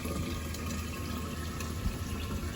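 Water pours steadily in a soft, continuous rushing stream, faint and close, with no talking.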